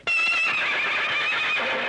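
A horse gives a loud, close whinny that rises sharply and trails off over about two seconds, with no voices.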